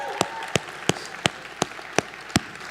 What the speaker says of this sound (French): oui, on peut applaudir, il n'y a pas de problème.